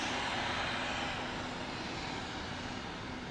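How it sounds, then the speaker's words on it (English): Airplane engines at Tampa International Airport give a steady, broad roar with a faint hum beneath it. The sound is sustained and even, nearby and moderately loud, with no talking. "nice to hear the engines. They're right in front of us, Helen."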